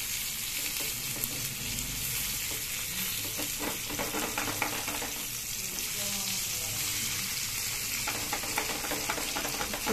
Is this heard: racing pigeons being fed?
no